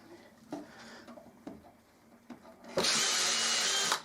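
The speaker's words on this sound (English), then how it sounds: "Now I'm going to just drill those 2 bottom holes." A few quiet knocks and taps, then a power drill whirs loudly and steadily as it bores holes into wood for an outdoor bench, close by.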